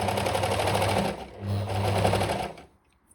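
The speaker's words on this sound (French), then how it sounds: "On a trois épaisseurs qu'on va venir coudre à la surjeteuse." A serger overlock machine stitches three layers of boxer-brief fabric, a fast steady whirring run that pauses briefly, resumes, then stops near the end.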